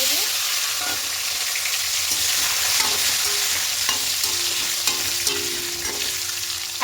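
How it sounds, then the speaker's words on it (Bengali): Peeled potatoes fry in hot oil with a little turmeric for chicken biryani, a steady close sizzle broken by occasional scrapes and clinks of stirring, with no voices. "আলুগুলো একটু হালকা লাল করে ভেজে নেব।"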